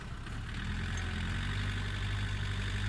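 A tractor plowing a potato field runs with a steady, loud engine rumble close by, with no pauses and no voices.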